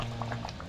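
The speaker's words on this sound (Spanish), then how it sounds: "porque hierve así, pues. Suena." Liquid bubbles at a boil in a pot with cinnamon, cloves and rosemary, a brief, soft run of small pops and gurgles close by.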